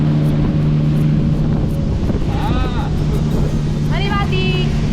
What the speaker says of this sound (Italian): Stavolta siamo in una barca a motore